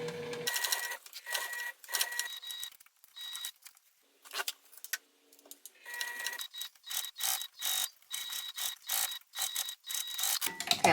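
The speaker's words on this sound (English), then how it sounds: "So start sewing here, back stitch a few times." A sewing machine runs a seam in short bursts, stopping and starting with brief back stitches between runs, close and clear, with no voices.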